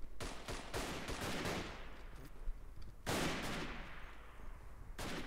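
Machine gun fire in the World War I shooter Verdun, a quick burst of close, loud shots followed by a long echoing decay, then a second heavy burst with a rolling tail and a final shot near the end.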